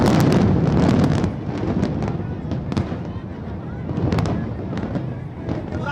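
A huge demolition blast at the Supertech twin towers in Noida: a sustained thunderous rumble and crackling roar, loud and broadband, with wind buffeting the microphone and voices in the background.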